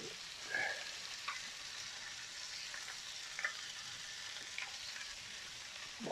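Chicken frying in truffle oil in a pan for a creamy keto Tuscan chicken dish, a steady soft sizzle with a few faint clicks and stirs, no talking.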